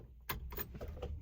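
Car keys jingle at the ignition of a Ford Pinto, a brief, quiet metallic rattle heard close up.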